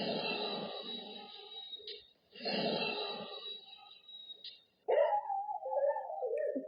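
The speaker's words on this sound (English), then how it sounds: "the family dog just goes nuts" A family dog howls and yelps in long, wavering cries, two drawn-out bursts separated by a short pause, then a sharper, louder outburst of barking and whining at the end, close and clear.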